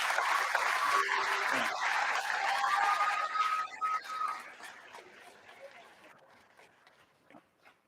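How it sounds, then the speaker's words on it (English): Graduation audience applauds speakers and performers at a high school ceremony: dense clapping loud for about four seconds, then thinning and fading out with scattered last claps. "Let's give them one more round of applause"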